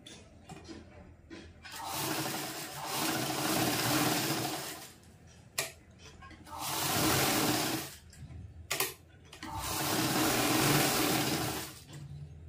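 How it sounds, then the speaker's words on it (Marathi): A sewing machine stitches fabric for a charging wire cover in three long loud runs, separated by short pauses and a couple of sharp clicks, with no talking. "हे आधी जॉईन करून घेऊया, याला शिलाई मारून घेऊया आधी"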